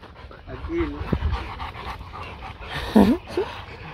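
A large Presa Canario dog pants on an extreme hike, quick breathy rhythm close by, with a short whimper-like yelp near the end.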